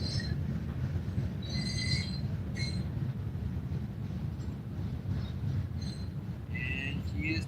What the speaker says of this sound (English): vibration of the train is actually causing pixelating.